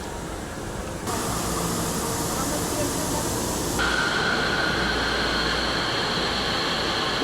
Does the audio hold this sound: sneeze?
no